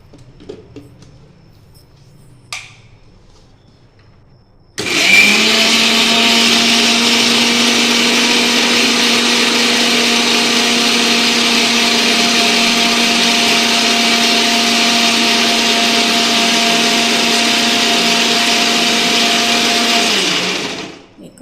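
A few quiet clicks, then a mixer grinder whirs loudly and steadily for about sixteen seconds grinding cooled tomatoes before winding down.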